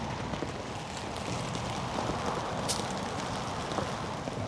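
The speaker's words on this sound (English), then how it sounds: "Now let's get out of the rain." Heavy rain falls at a roadside campsite, a dense, even hiss of drops on surfaces continuing without a break at low to moderate level, with a brief sharper splash partway through.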